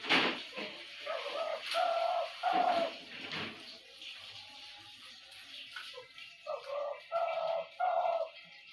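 Pet pigeons cooing close by in repeated low rolling phrases, several bursts in two clusters with quieter gaps between, against a quiet background.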